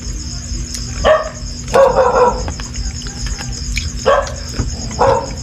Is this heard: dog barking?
yes